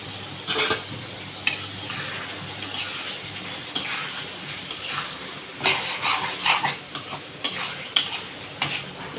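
Pieces of fish are stirred into sizzling spice paste in a pan, with repeated scraping utensil strokes and a soft frying hiss in an irregular rhythm, close and moderately loud.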